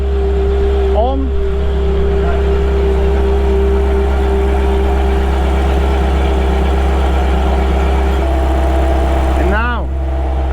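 A Ferrari F430 Scuderia engine, fault code P0024 for timing, idles steadily and loudly with a constant low hum, a faint higher whine briefly rising near the start and end.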